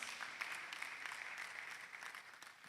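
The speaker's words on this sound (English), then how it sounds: "And let's applaud her, please." An audience at a film festival session claps for a barrister invited on stage, a steady wash of applause at a moderate distance that holds evenly for a few seconds.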